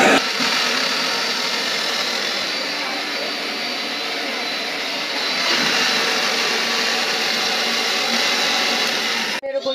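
Kitchen mixer grinder running continuously with a steady, loud high-pitched whir, shifting slightly in tone partway through before cutting off abruptly at the end.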